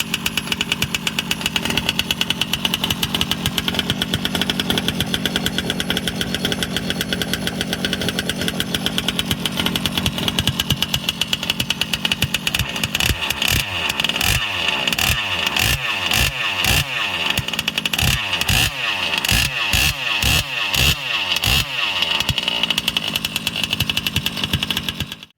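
An OBR 34cc gas engine in a Losi 5IVE-B 1/5-scale RC car runs during break-in, first a steady buzzing idle, then a series of sharp, rhythmic revs blipping up and down, loud and close.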